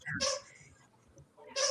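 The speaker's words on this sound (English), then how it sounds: "He's chewing his ducky." A dog chews a squeaky rubber duck toy, producing two sharp squeaks about a second and a half apart, with faint chewing and muffled background noise between them.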